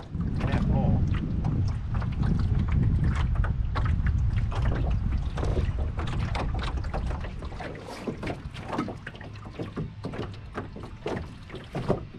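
Wind gusts over a lake buffet the microphone and boat while bass fishing in fall, a loud, steady rushing roar throughout with occasional faint knocks.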